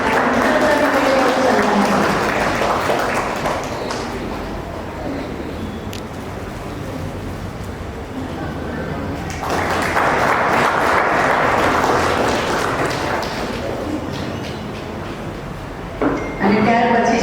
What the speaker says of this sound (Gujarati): તો એકવાર આપણે મને તાળી.